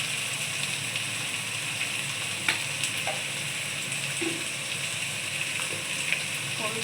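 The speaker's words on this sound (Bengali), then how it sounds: "মশলাটা ভালো করে কষিয়ে নেবো।" Spices sizzle and fry in a pan for a fish curry with taro while a spatula stirs, giving a steady hiss broken by occasional scrapes and clicks.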